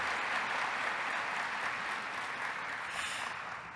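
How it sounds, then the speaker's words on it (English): An audience at a medical conference opening session gives a round of applause, with dense, steady clapping that fills the hall and fades slightly toward the end, with no speech over it. "So let's give them one more round of applause."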